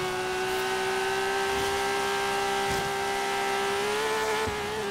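A Nissan Skyline GT-R R32 with a 700 HP build races in Forza Horizon 3. Its engine holds a loud, steady drone that rises slowly in pitch, with faint tire noise underneath.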